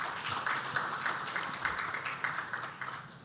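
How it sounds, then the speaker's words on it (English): Conference audience at a scientific session applauds the organizing committee, a soft, even spread of clapping from across a hall, faint and distant, lasting a few seconds. "give a big round of applause to the organizing committee."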